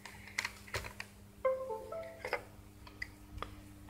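Keys on a homemade STM32-based USB hotkey keyboard are pressed, giving a handful of sharp, close clicks spread unevenly over a few seconds against faint background hum, with no talking.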